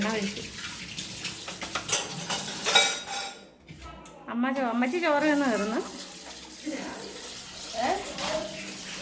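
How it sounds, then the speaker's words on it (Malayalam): Running water splashes over clattering clay pots in a sink, while voices talk over the washing. "ചട്ടിയൊക്കെ കഴുകി വയ്ക്കുകയാണ്"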